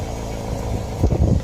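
A car engine runs at idle after being started, a steady low rumble with a few louder surges near the end, close by and with no talk over it.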